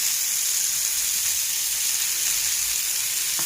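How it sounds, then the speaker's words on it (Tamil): Fish frying in oil on a dosa griddle over a low flame gives a constant, bright sizzle, close and steady throughout with no pauses and no voices. "தோசைக்கல்லில் மீனை போட்டாச்சு. எண்ணெய் ஊற்றிடுவோம்."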